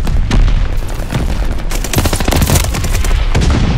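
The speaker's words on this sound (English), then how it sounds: "Mortars incoming!" Loud, dense mortar fire and explosions in Call of Duty Vanguard: a rapid run of close, heavy booms and blasts with gunfire layered through, continuous throughout with no clear talk.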